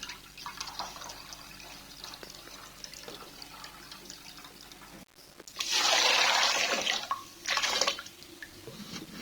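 Rice is rinsed in water, starting with a quiet splashy wash and then moving to a louder rush of running water in two bursts near the end, with no talking.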